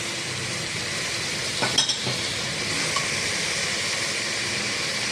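Chopped tomato and onions with a pinch of salt sizzle steadily in a pan for chicken biryani. The hiss is loud and continuous, with a few brief stirring scrapes near the middle.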